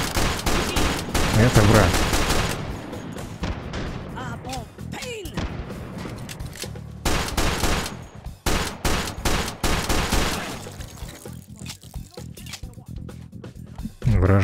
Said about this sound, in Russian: Идем на выстрелы.